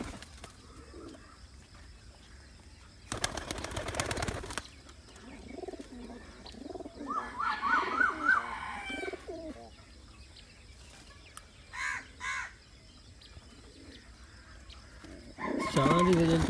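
Rampuri pigeons cooing in soft low bursts, with some flapping and rustling. Louder thumps and faint speech are heard now and then.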